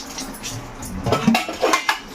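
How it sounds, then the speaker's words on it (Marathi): Glass dishes are washed in a home kitchen, with several close clinks and knocks of glassware and utensils against each other in an irregular rhythm, no talk. "आई किचनमध्ये आहे, भांडी घासत आहे काचाची"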